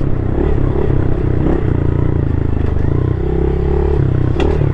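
A new 2024 Honda CRF110F fuel-injected dirt bike runs loud and close, its steady engine note rising and falling slightly as the throttle is worked, with faint clatter on a trail.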